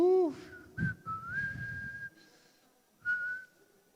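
Someone whistles a few short sustained notes with pauses between them, clear and close.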